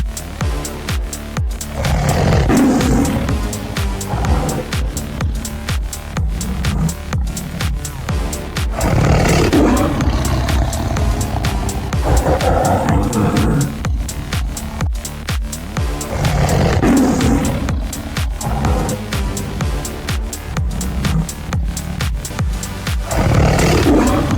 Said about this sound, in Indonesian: Dengan sisa tenaganya, ia menggeram keras